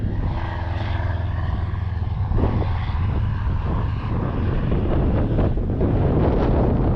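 An E-flite T-28 Trojan RC warbird on a 4S battery flies on a windy day, its electric propeller whine and whooshing passes rising and falling against loud wind noise, with no talking.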